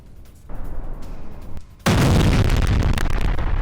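A heavy explosion destroys a military base in Russia-Ukraine war footage: a sudden, loud blast erupts after a quieter stretch of low rumbling and continues as a sustained, roaring wall of noise to the end.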